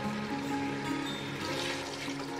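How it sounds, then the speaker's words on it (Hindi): Water is poured steadily into a pot of chicken and potato curry being cooked as a thin gravy, a continuous close trickle and splash running throughout. "तो इसलिए हम इसमें इस लिहाज से पानी डालेंगे ताकि चिकन भी गल जाए आराम से।"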